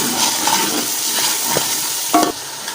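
Mixed vegetables with salt are stirred in a pan, producing a continuous soft sizzle with several scraping spoon strokes and a louder clatter near the end; no talking.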